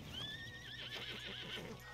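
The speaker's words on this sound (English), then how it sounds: "see, hear the horse?" A horse whinnies in Red Dead Redemption 2, a high, quavering neigh that trails off, heard clearly against a quiet background.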